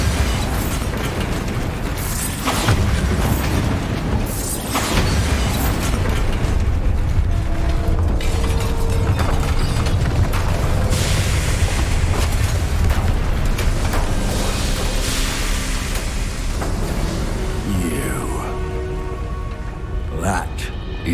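Bombarda blasting spells exploding in the Hogwarts Legacy video game, repeated booms and crackling bursts over a dense rumbling game soundscape, with a voice calling out spells and music in the background.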